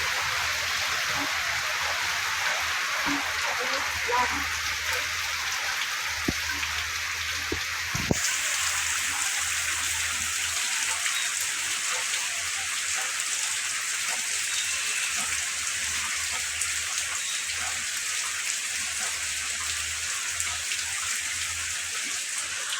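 Heavy typhoon rain in Butuan City, Caraga region, pours as a dense, continuous hiss of drops on surfaces, steady and fairly loud, with a brief sharp knock partway through.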